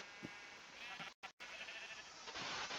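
Sheep bleating in a video game, a few faint wavering bleats over a steady background hum.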